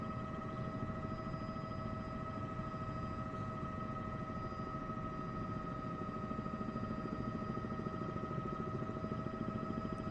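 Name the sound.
Bell 206 helicopter flying, video game Microsoft Flight Simulator 2024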